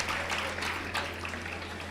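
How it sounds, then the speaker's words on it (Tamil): An audience applauds a speaker at a motivational talk, a dense, steady wash of clapping from many hands heard from a distance, continuous and fairly soft, over a low electrical hum. "நல்லா கைதட்டுங்க."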